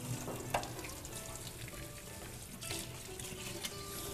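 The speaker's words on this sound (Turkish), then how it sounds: "Bu arada şekerimiz de sanırım kavrulmaya başladı." Sugar caramelizing in a pan until it begins to smoke, a quiet continuous sizzle and crackle with a few small pops, faint and close.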